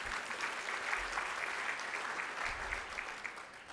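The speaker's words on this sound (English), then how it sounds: "let's clap." Steady audience applause for the sponsors at a city State of the City luncheon, continuous even clapping from a sizeable crowd lasting several seconds without a break.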